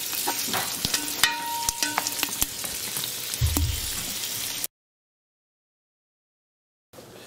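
Food stirred and sizzling in a hot cooking pan, a steady frying hiss broken by scraping, clicking strokes of a utensil, with a heavier thud near the middle before it cuts to silence.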